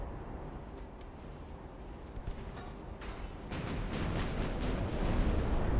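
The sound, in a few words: naval gun shells bouncing off ship armor in a video game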